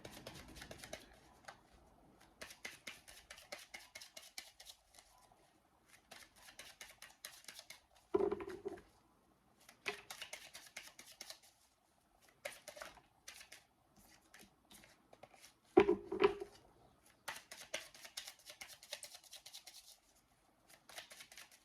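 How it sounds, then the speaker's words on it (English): Quiet, repeated riffling and soft card flicks from shuffling tarot cards, with two brief louder bumps, close and steady with no voices. "I'm going to go ahead and shuffle these."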